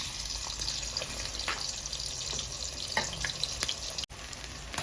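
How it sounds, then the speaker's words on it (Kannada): Onions sizzling in hot oil in a pan, a continuous bright crackling hiss that holds steady throughout, with scattered small pops and one brief dropout near the end. "ಈಗ ಎಣ್ಣೆ ಕಾದಿದೆ, ಈರುಳ್ಳಿ ಹಾಕ್ಕೊಳ್ಳೋಣ."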